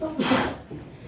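A single sharp sneeze bursts out during a university lecture, a brief explosive blast of air that quickly fades into quiet room tone.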